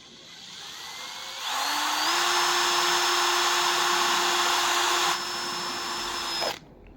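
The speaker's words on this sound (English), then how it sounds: "Sometimes you have to fucking drill a hole with the screw in order to get it to go in." A power drill drives a screw that will not go in easily, its steady loud whine rising in pitch once, holding for several seconds, then stopping abruptly.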